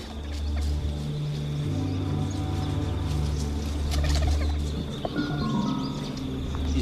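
A megapode bird calls in a forest on a Komodo dragon island, a series of loud nearby gobbling, clucking notes over a steady low background hum.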